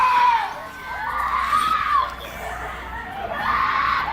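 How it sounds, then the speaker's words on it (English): A woman screaming, a loud, sustained high-pitched wail rising and falling in long waves over about four seconds, with a crowd-like roar beneath it. "She's screaming hard as hell"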